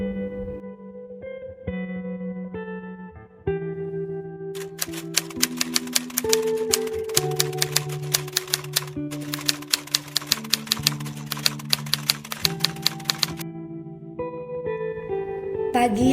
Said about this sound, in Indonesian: Teks proklamasi Indonesia diketik oleh Sayuti Malik.